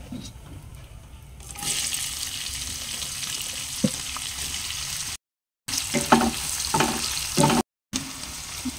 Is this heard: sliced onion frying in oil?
yes